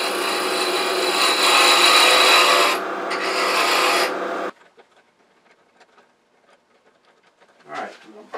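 Wood spinning on a lathe is cut with a beading and parting tool for about four seconds, a loud, steady broadband rasping shear. It then stops abruptly, leaving faint ticks and a brief rustle near the end.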